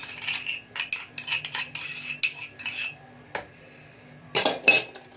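A spoon clinking and scraping against a metal pot while ghee is stirred, sharp close metallic knocks in irregular bursts with short quiet gaps between them.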